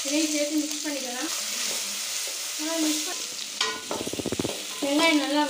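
Chopped small onions fry in oil while a spoon stirs them, giving a steady sizzle broken by scraping strokes and a brief burst of rapid rhythmic clacking near the end.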